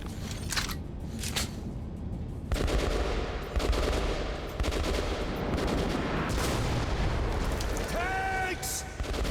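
Heavy gunfire in Metro Last Light, bursts of machine-gun shots and explosive booms crowding together loudly throughout, with a person talking under the din.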